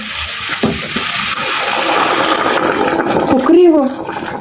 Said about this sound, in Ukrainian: І всі ці овочі я заливаю гарячою водою.